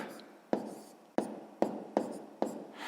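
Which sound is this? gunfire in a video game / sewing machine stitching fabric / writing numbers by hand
writing numbers by hand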